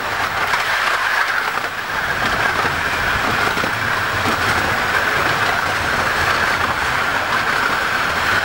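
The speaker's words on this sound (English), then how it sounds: "to Ernie and I is excellent. Well, that was the double-headed train that was in the station when we left" A double-headed steam train on a miniature railway gala passes close by, a loud continuous rumble with clattering wheels and hissing, steady throughout.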